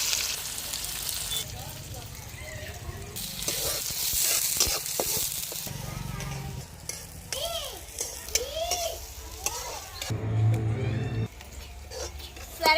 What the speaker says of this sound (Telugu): ఉల్లిపాయలు మొత్తం అయితే బాగా ఫ్రై అయినాయి కదా